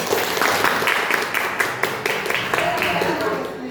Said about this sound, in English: Hey, you have to clap also.